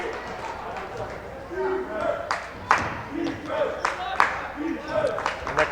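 Crowd at a boys basketball championship game claps and cheers in scattered bursts, with sharp shoe squeaks on the court and a commentator talking throughout.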